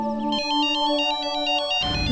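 A bright electronic phone ringtone plays a repeating melodic pattern, loud and close, cutting off abruptly at the end.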